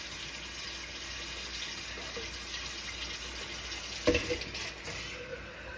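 Water poured from a cup into a pan of already-cooked chicken, a steady close splashing wash that runs throughout with a slightly louder gush near the end.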